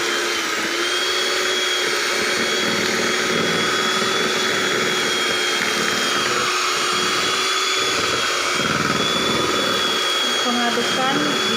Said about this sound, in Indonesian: Kalau dia sudah mengembang, baru kita sudah bisa mematikan mixernya.